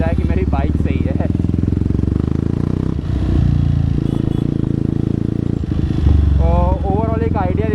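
A Jawa 42 Bobber motorcycle with a loud aftermarket exhaust idles with a deep, throbbing burble and revs in short bursts, close and very loud, while a voice is heard over the engine.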